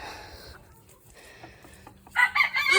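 Silkie chickens cluck and squawk in a burst near the end, close and fairly loud, after a quieter stretch of faint background rustling.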